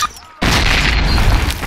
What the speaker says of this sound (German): werfen Sie in jede Öffnung vor sich eine Granate.